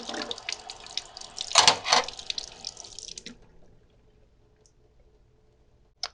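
Running tap water rinses a freshly pickled, soldered metal piece in a sink, a steady splashing rush lasting about three seconds before cutting off into near silence, with a faint click at the end.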